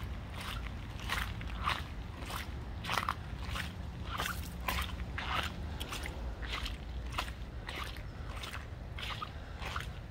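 Feet slosh and squish through shallow monsoon rainwater at an urban farm in Scottsdale, Arizona, a steady rhythmic wet stepping that carries on throughout under a constant watery background hiss.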